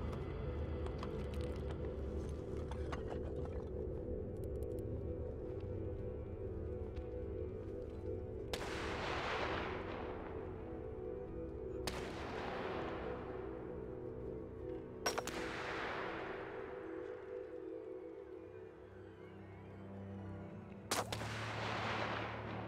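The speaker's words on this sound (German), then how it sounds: "Hier ist ein Scharfschütze draußen." Sniper gunfire in the war survival video game This War of Mine: four loud single shots spaced several seconds apart, each a sharp crack trailing into a long echoing rumble over a low ambient drone.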